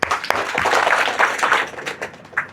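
Students in a classroom clap in applause, a brief burst of dense, close hand claps that swells and then thins out.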